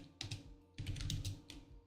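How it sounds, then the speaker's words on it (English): Bursts of quick keystrokes on a computer keyboard, fairly close and moderately quiet, coming in three short flurries separated by brief pauses, with no voices. "You can see how well I type"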